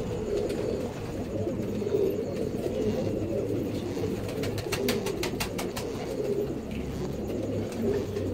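A sick pigeon with a bad chest and laboured breathing makes soft, rasping coos and wheezy sounds close by, with faint clicking noises in the background.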